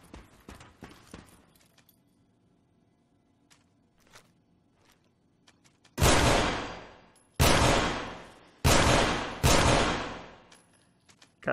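Four loud, sharp gunshots from a 10mm pistol test-fired in Fallout 4, spaced about a second apart, each with a decaying tail, after quieter clicks and handling sounds.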